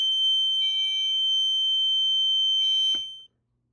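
Fire alarm sounding during a drill switch test of a security and fire system: a loud, piercing steady electronic tone held for about three seconds, with a brief click as it cuts off abruptly.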